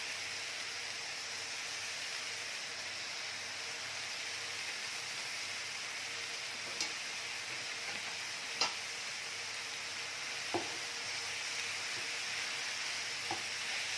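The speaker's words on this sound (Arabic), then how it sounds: "شوحنا اللحمه اديناها لون، شوحنا البصله اديناها كرملناها" Beef and onion sautéing in a pan, with a steady, even sizzle throughout and a few soft ticks and clicks from stirring scattered across the latter half.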